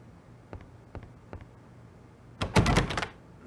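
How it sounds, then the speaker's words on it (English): A stuck, latched door being tried in an island pub: a few faint ticks and taps, then a loud, rough rattling clatter of the handle and frame for about half a second, with no talk. "The door, it will not budge."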